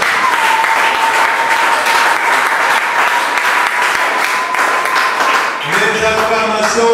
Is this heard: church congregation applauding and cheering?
yes